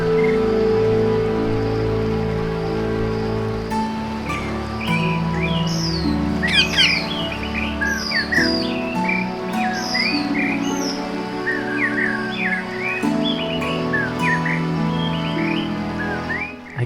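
A pet Indian rose-ringed parakeet gives bright, repeated chirps and short whistled calls, close and clear over a steady low background hum.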